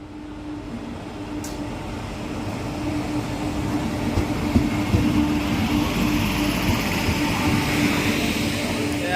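A long-distance passenger train runs steadily with a continuous, loud rumble and rattle that holds for the whole stretch, with no pauses, heard from inside the train.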